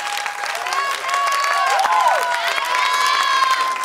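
A show audience applauds and cheers for a performer named Dianna, steady clapping and crowd noise filling the whole stretch, with a sustained musical tone and voices running underneath.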